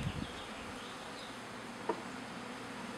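Honeybees at a newly installed package hive in New England make a faint, steady insect drone at close range, with a brief click and a few soft knocks.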